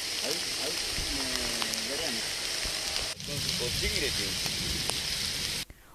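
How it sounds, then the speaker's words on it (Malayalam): Heavy rain with wind lashing farmland in the Mavoor area of Kerala, a continuous loud rushing hiss that runs beneath a voice speaking throughout. "ഉച്ചയ്ക്ക് 2 മണിയോടെയാണ് മഴ തിമിർത്തു പെയ്യാൻ തുടങ്ങിയത്."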